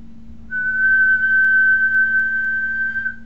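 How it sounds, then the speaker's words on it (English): A person whistles one steady, sustained high note for about two and a half seconds, close and clear, over a faint low electrical hum. "what I'm going to do is whistle"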